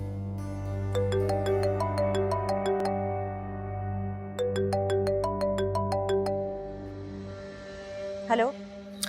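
A mobile phone's melodic ringtone plays two repeated phrases of bright tones over a sustained drone of background score, then breaks off before a short electronic chirp near the end.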